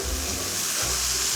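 Fennel and mushrooms sizzle steadily in a pan while being stirred with oregano for a risotto, a continuous close frying hiss with low scraping surges from the stirring, no talk.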